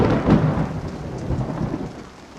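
Steady rain falls with a dense hissing patter, loud and close, with a low rumble like distant thunder underneath.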